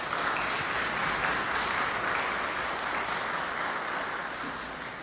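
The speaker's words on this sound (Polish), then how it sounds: "ale duże brawa" An audience at a chamber music concert in Sanok applauds continuously, a dense, even clapping from the hall that tapers slightly toward the end.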